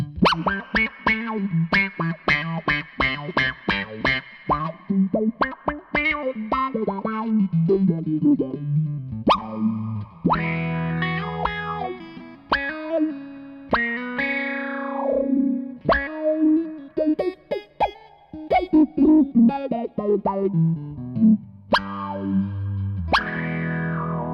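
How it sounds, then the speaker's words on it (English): Electric guitar played through a KO Amps Interstellar Burst auto-wah pedal, each picked note and chord sweeping with a vocal, quacky filter; funky phrases with brief pauses, no talking. "it's good for that funky auto wah sort of stuff"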